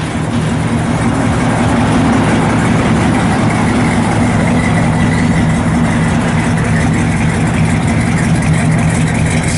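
A 1965 Chevrolet Impala SS V8 engine idles steadily with a deep, throaty exhaust rumble, constant and loud throughout with no talking.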